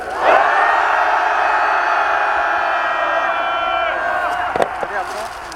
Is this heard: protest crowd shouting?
yes